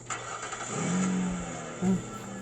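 A car being hot-wired in a scene from The Walking Dead, its engine turning over and catching with a low, muffled rumble and a short rev. It is heard at a moderate distance through television sound.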